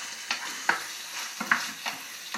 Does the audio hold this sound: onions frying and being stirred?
yes